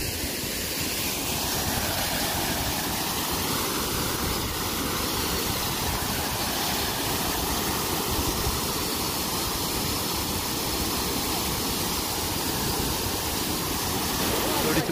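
Water rushing through an opened canal lock gate during a boat crossing, a steady loud broadband roar like a waterfall that holds for the whole stretch without letup.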